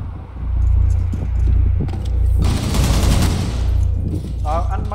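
Gunfire bursts loudly in a Rainbow Six Siege match, with a dense rattling volley in the middle over a constant low rumble, and a voice briefly heard near the end.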